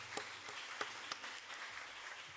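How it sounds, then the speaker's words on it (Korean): Applause from a church congregation during a Sunday service, heard faintly with a few sharper claps standing out over a soft, steady patter, distant and low in level. "큰 박수로 하나님께."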